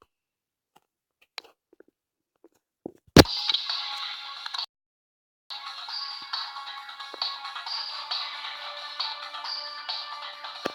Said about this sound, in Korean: 아, 카톡 죄송합니다.